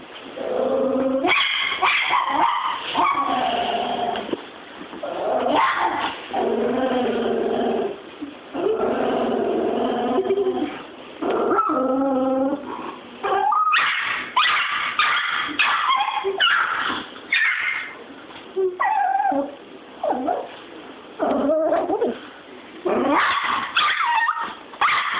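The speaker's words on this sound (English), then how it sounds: "That's a bitch ass dog." A dog barks, yips and growls almost continuously in close, loud bursts, with whimpering between the barks.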